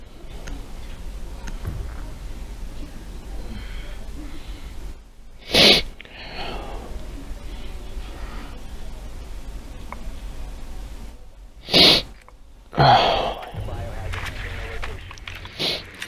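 A person sniffles sharply through the nose several times, loud close bursts separated by long quiet stretches with faint background ticking.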